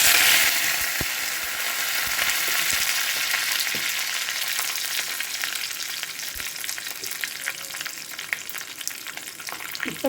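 Curry leaves sizzle and crackle steadily in hot oil with cumin, a bright continuous frying hiss with scattered pops, close and loud throughout, no talking.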